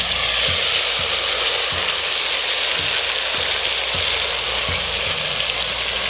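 A ground paste of mustard, ginger, garlic and drumstick bark fries in oil with a dense, even, rain-like sizzle, close and continuous, with faint periodic scrapes of stirring underneath.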